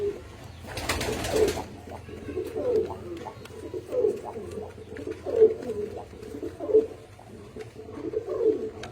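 Damascene pigeons coo close by in a repeated rhythm, one low call roughly every second and a half, with a brief burst of wing flapping near the start.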